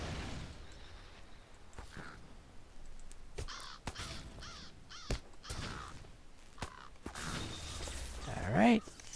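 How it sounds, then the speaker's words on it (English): Caws from a bird in a video game ring out several times as short, sharp calls spread across the stretch, with someone talking quietly underneath and a louder burst near the end. "there's a bird."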